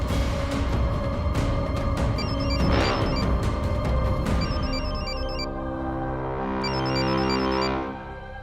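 A phone rings in a tense room, its electronic tone pulsing near the end over a steady background of music and ambience.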